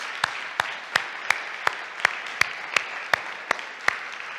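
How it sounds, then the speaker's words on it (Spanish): A standing church congregation claps in unison at a steady beat, about three claps per second, with sharp, evenly spaced hits over a low murmur of room noise. "dê un aplauso al Señor Jesucristo"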